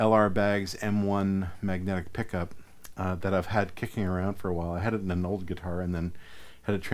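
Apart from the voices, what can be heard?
No everyday noises stand out.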